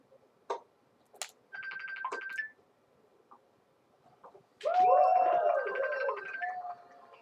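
A phone ringtone plays during a tennis video game session: short electronic tonal bursts, then a louder, longer melodic ring pattern, clear against near silence.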